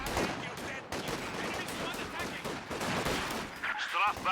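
Rapid bursts of gunfire from a Company of Heroes 2 battle, with a sniper rifle among the weapons, crackle in dense, repeated volleys at moderate distance under an ongoing commentator's voice.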